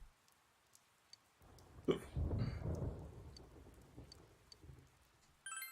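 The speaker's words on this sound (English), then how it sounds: "I do love the ambient sound of the rain and thunder" Ambient rain and thunder from the video game Persona 4 Golden: a quiet patter of rain with a low rumble of thunder rolling in midway and slowly fading, plus faint clicks.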